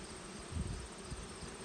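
Honey bees buzzing inside a varroa mite shaker jar during a beekeeper's mite count, a dense, steady low hum with brief swells as the bees are swished toward the bottom.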